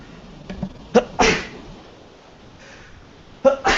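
A person sneezes several times during a live broadcast, with sharp bursts near the start, middle and end, close and clear, separated by quiet room tone.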